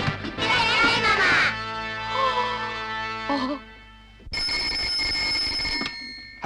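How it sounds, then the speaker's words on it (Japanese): A telephone rings in an office in a Japanese TV comedy, the bell tone repeating across the clip amid voices and other household and office sounds, with a clear steady ringing section near the end. "電話だ"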